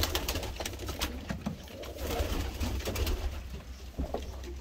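Pigeons in a loft keep up a low, continuous cooing murmur, with several birds overlapping near and far under faint rustling.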